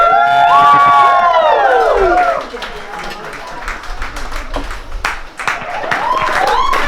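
Wedding guests burst into loud cheering and applause right after a toast, a dense crowd roar with whoops and shouted voices that dips briefly in the middle and swells again at the end.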